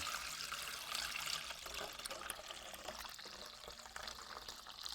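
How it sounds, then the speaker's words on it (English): Water from a pitcher pours steadily over a dishwasher pod sitting in a bowl, a continuous close splashing wash that runs unbroken without talk. "let's run some water over this bad boy so we can see how it works, how it disintegrates"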